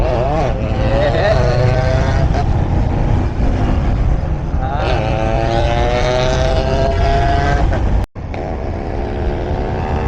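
A Yamaha RXZ motorcycle engine runs loud and close, revving up and down in rising and falling pitch, with voices talking over it at times.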